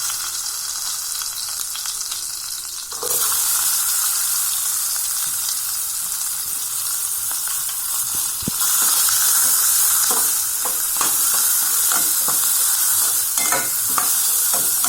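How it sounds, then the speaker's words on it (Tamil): Onions dropped into hot oil for a meal maker kola kulambu, a bright sizzle that jumps up after a few seconds and swells again later, with scraping stirs and clinks against the pan, close and steady, no talk. "இப்போ நம்ம வெங்காயம் போட்டுடலாம் குழம்புக்கு."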